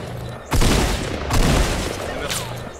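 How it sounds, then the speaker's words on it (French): Fortnite gunfire: two loud, close blasts about a second apart, each with a long rumbling tail, over a steady bed of game noise. "Ça nous tire dessus encore, fais gaffe."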